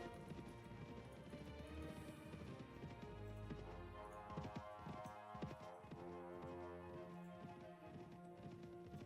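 Horses gallop in Mount & Blade Warband, a steady clip-clop of hooves pounding under ambient game music and effects, loud and continuous while riding.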